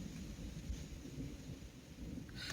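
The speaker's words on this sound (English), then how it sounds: "But there's still thunder, so I'm gonna wait another few minutes." Distant thunder rumbles low and steady through light rain on the Appalachian Trail in Virginia, a soft continuous roll with no voices, ending in a brief brighter patter of rain.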